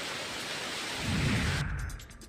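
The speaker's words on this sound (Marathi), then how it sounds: "नाशिकच्या नांदगाव तालुक्यातील घाटमाथ्याजवळ कासरीजवळ जोरदार पाऊस झाला" Heavy rain pours near Kasari by the ghat crest in Nandgaon taluka, Nashik, as a dense steady hiss. A low rumble swells midway, then the wash thins out.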